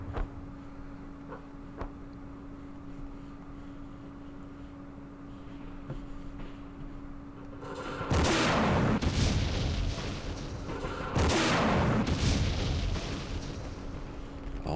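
Mortar rounds land in the Vietnam war game Campaign Series Vietnam, in a Dien Bien Phu scenario: two heavy, booming blasts a few seconds apart, each with a rumbling tail, break through a quiet background hum.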